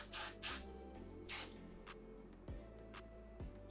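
An airbrush sprays short puffs of air onto a metal miniature being prepped for priming, with several sharp bursts near the start followed by quieter, softer hisses and faint handling clicks.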